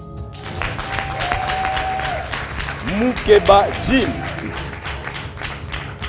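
Audience claps at a church Bible quiz contest as contestants are called up, applause under a presenter's voice announcing a name, with a brief tonal sweep midway.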